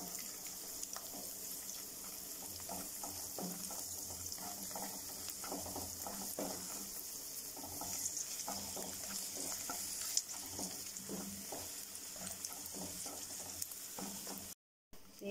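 A masala mix fries in oil and ghee while being stirred, a soft continuous sizzle with scraping strokes and a water-like hiss, fairly quiet, ending in a short silence.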